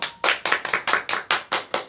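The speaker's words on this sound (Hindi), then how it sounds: "इसलिए जोरदार ताली बजाया।" An audience at a spiritual discourse gathering claps loudly in unison, producing about nine sharp, evenly spaced claps in a steady rhythm with no talking over them.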